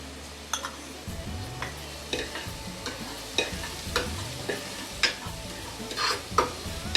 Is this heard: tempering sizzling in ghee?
yes